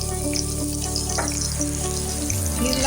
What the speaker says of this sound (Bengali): তেলটা আমার গরম হয়ে গেছে। ওর মধ্যে আমি 2টো কাঁচা লঙ্কা টুকরো করে দিয়ে দিলাম।